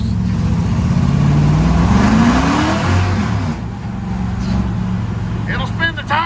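A car with long 273 rear gears revving hard and accelerating, the engine note rising in pitch over a couple of seconds before easing off, loud and close, with voices talking over it.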